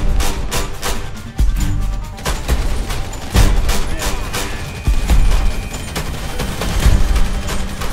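Gunfire in the video game GTA 5 during a gang fight: repeated loud sharp shots in quick bursts with heavier booming hits among them, running steadily throughout with occasional talk underneath.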